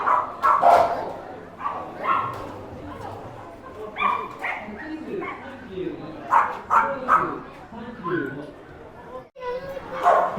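Several Japanese dogs barking and yipping in short excited bursts, close and loud, with whimpers between, while people talk over them.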